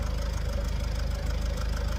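A Vauxhall Vivaro 2.0 turbo van engine idles with a rough, steady rattling knock, close and continuous.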